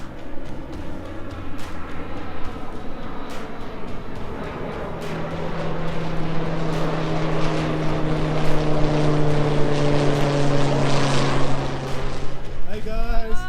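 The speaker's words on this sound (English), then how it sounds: "3 fire planes flew over, so hopefully there's not a big fire going on in the area" Low-flying firefighting planes pass overhead in rural central Portugal, a loud droning propeller roar with steady harmonic tones that builds over several seconds and stays close throughout.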